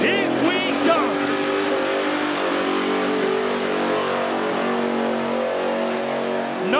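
A Ford XP Falcon burnout car revs hard at the start of a burnout run, its engine note loud and close and rising in surges over crowd noise and a commentator's voice.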